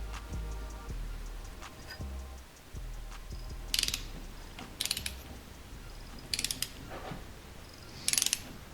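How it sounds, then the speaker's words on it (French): A ratchet torque wrench clicks and ratchets as it tightens the cylinder head bolts on a Honda Civic D16 engine, with bursts of sharp clicking spread through a quiet workshop. "Après, comme toujours, on va torquer notre tête."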